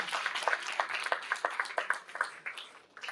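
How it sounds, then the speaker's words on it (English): Audience applause at a scholarship awards ceremony, scattered claps, moderately loud and steady, tapering slightly toward the end. "Give them a round of applause."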